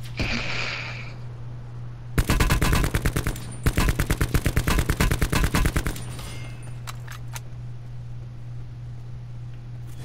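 Automatic gunfire in Call of Duty: Black Ops 4, a dense stream of rapid shots in two long loud bursts over a steady low hum, then quieter ambience with a few faint clicks.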